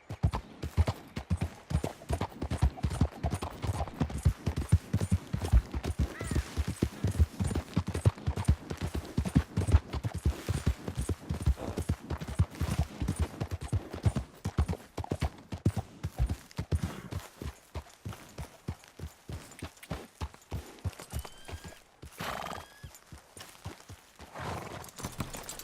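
A horse gallops in Red Dead Redemption 2, a fast, steady clip-clop of hooves running close for the whole stretch, with an occasional whinny and no talk over it.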